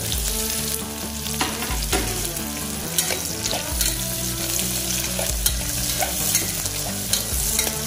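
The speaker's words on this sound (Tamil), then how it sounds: "எல்லாமே மொத்தமா எண்ணெயில தான் நல்லா வதங்கணுங்க." Onion and garlic sautéing in oil for an eggplant gravy, a steady dense sizzle with occasional stirring scrapes and soft clinks, close and continuous with no talking.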